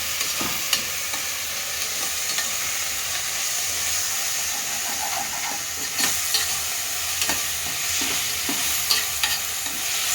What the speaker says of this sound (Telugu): మంచిగా పచ్చి వాసన పోయే వరకు మంచిగా ఫ్రై చేసుకోవాలి.